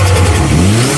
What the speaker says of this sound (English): you'll know this car has the whole turbo flutter kind of noise.